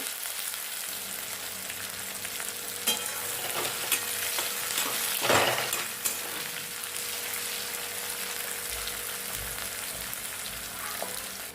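Green chillies frying in oil give a steady, close sizzle with scattered crackles and one louder burst of spitting midway, with no voices.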